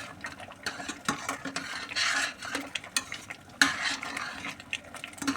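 Cinnamon and cloves are stirred in a pan before vermicelli goes in, with a spoon scraping and clinking against the metal in irregular bursts over a light sizzle, close and fairly loud, with no voices.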